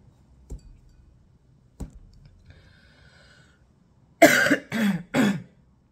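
Three quick, close coughs in a row come after a couple of soft clicks in an otherwise quiet room.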